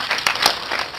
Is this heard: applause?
yes